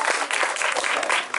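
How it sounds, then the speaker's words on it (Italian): An audience claps hands at a concert inside a cave, a dense, steady burst of applause filling the space without any voices over it. "quando si fa così dovete battere le mani"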